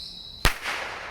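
A bottle rocket firework goes off outdoors in the morning with a single sharp crack, then a short hissing fizz trailing away at middle distance.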